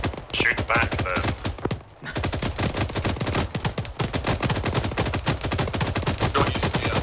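Rapid automatic gunfire in Arma 3 combat, a dense stream of sharp repeated shots with one brief pause, loud and close, with voices faintly under it.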